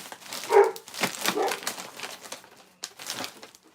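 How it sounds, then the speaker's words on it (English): Several dogs bark and yap excitedly in a house, a burst of loud barks near the start, then scattered quieter yips and rustling that fade toward the end; no talk. "So please excuse the dogs, because they're going to start going crazy about now."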